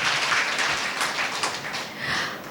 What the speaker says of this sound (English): shall we give a huge round of applause to our Father?